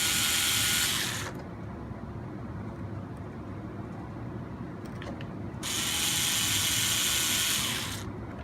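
A small driver turns screws and bolts into the bumper mount of an RC 4x4 crawler during a bull bar install, giving two short ratcheting mechanical bursts with quiet stretches and small clicks between them.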